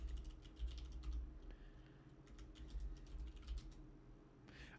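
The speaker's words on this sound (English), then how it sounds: "Maybe the sound of my keyboard." Someone types on a computer keyboard in quiet bursts of rapid key clicks, with short pauses between runs, close and faint in a calm room.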